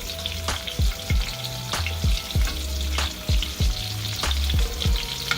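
Pounded chicken cutlets for chicken parmesan pan-fry with a loud, constant sizzle, broken by a series of dull low knocks and bumps from the pan; no voices.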